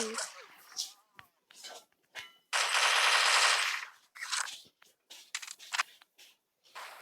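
Gunfire in a shooting video game comes as a sustained loud burst of automatic fire plus scattered short shots and clicks, with a person talking between bursts.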